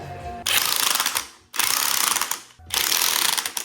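A ratchet with a 3/4 inch socket cranks a spring compressor on the strut of a 2025 Toyota Land Cruiser during a 3.5 inch lift install, giving three loud, close bursts of rapid clicking separated by brief pauses.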